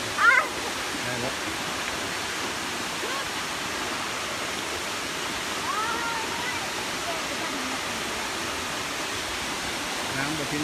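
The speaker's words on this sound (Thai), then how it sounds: "น้ำไหลเนาะ" Tad Yuang waterfall in Laos pouring steadily, a loud broadband rush of flowing water that fills the whole stretch without pause.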